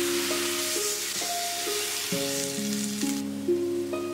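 Water poured into a hot wok of stir-fried ingredients for noodles hisses in a steady, continuous sizzle, with faint clinks of a utensil under it.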